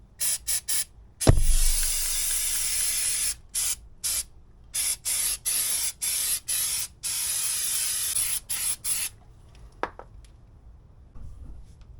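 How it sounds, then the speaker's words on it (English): Repeated bursts of aerosol spray paint applied to a reassembled vehicle wheel area, roughly a dozen hissing sprays of varying length, close and loud, with a sharp clunk early on and quieter handling noises near the end. "throw some more paint on her"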